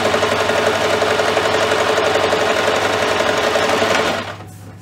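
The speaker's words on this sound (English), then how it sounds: "You can see here that I'm just using a chain stitch." A sewing machine runs a continuous chain stitch along a kids apron, its steady rapid mechanical whir loud and close for about four seconds before stopping abruptly.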